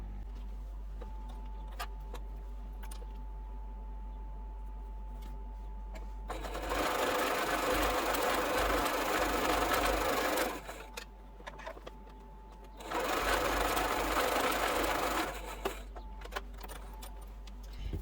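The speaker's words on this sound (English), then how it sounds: "we're going to lay that down, and we're going to sew that all the way." A sewing machine stitches a quilt strip set in two steady, loud runs of rapid whirring, separated by a short pause, with quiet room hum before and between the runs.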